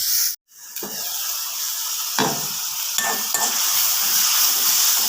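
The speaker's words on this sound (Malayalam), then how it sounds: "ഇതൊന്ന് വഴന്ന് വരട്ടെ." Tomato, onion and curry leaves sauté in a pan with a steady hissing sizzle. A brief silent gap comes early, then a few light scraping stirs and utensil knocks, with no talking.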